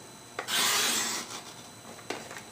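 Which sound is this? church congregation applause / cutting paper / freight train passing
cutting paper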